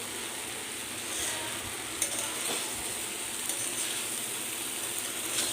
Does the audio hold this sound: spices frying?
yes